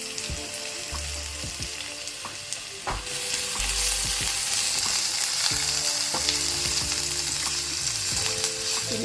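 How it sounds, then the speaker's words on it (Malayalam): Ginger, garlic and green chilli sauté in coconut oil in a kadai, giving a steady, close sizzle with scraping stirs; the frying grows louder partway through. "ഈ പച്ച മസാലകളൊക്കെ വഴറ്റിയെടുക്കാനായിക്കൊണ്ട് കടായിലേക്ക് 2 ടേബിൾ സ്പൂൺ വെളിച്ചെണ്ണ ഒഴിച്ചു കൊടുക്കുന്നുണ്ട്."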